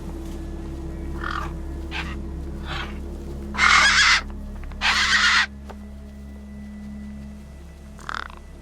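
Gang birds in the video game Beyond a Steel Sky caw in a scattered series of calls: several short caws, then two long, loud harsh squawks, then one more brief caw, all over a low steady ambient hum.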